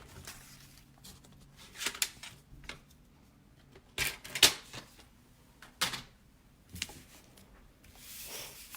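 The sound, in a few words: paper trimmer cutting specialty paper diagonally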